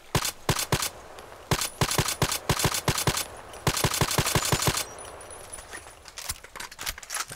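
EBR rifle fire in a shooter game on a lake map: fast bursts of sharp, close gunshots in tight clusters, loud and clipped, thinning to scattered quieter shots near the end.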